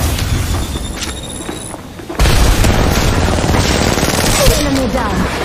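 Gunfire in the battle royale mobile game Apex Legends Mobile: a loud, dense burst of shots and booms kicks in about two seconds in and keeps going steadily, after a quieter stretch with faint game sounds.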